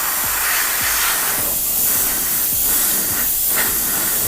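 Loud, steady airy hiss of a dryer blowing over a fresh varnish coat on a model, with a faint low pulsing underneath, continuous and close with no voices.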